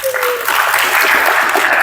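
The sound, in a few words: clapping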